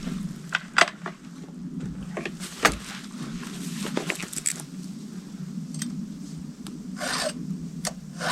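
A hand file rasps across a chainsaw chain at a forested off-grid cabin, short scraping strokes repeated irregularly over a low steady hum, close and moderately loud with no talk.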